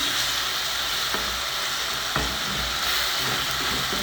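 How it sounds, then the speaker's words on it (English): Cumin and paprika fry in a hot pan for a fish dish, a steady loud sizzle with a couple of soft scrapes from stirring, no voices. "I give this a stir before it burns"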